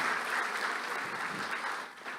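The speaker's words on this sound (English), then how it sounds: "huge round of applause for this team also" Seminar audience at a convention applauding, a dense, steady wash of clapping that holds throughout and dips slightly near the end.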